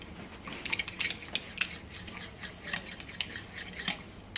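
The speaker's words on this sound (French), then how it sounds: "Plus vous allez fouetter énergiquement, plus vous allez incorporer de l'air et plus votre mayonnaise va être ferme." Mayonnaise whisked vigorously in a bowl, a fast, steady clatter of whisk strokes against the bowl sides, close and alone without speech.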